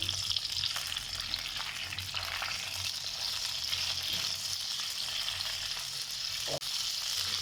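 Chopped green chillies fry in a pan with a steady, close sizzle and occasional soft stirring scrapes for achari mirch, one sharp clack near the end; no talk.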